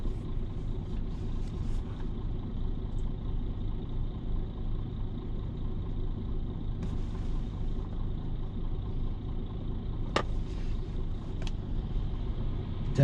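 A car pulls away from a green light at a city-centre intersection, a steady low engine rumble close by and unbroken throughout, with a couple of brief sharp clicks near the end.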